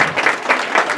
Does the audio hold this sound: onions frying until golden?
no